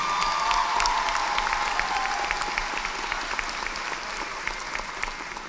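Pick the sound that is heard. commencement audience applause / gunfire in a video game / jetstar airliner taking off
commencement audience applause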